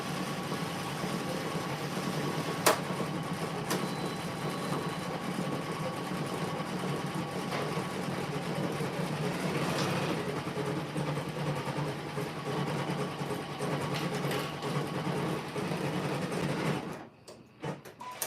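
An embroidery machine stitching a basket base whirs in a steady, fast mechanical chatter for most of the span, with occasional clicks, then stops abruptly near the end.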